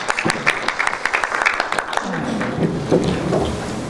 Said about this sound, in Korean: 박수로 한번 환영하시겠습니다.